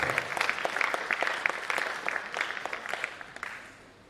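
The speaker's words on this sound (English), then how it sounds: "A round of applause for the university." Audience applause at a World Mental Health Day event, a steady patter of many hands clapping at moderate distance that fades toward the end.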